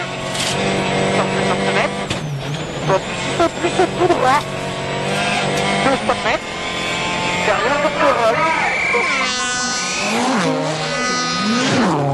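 Sébastien Loeb's rally car sets off on a stage at the 2007 Rally of Norway, its engine revving hard, with rising and falling sweeps and bursts of acceleration close by.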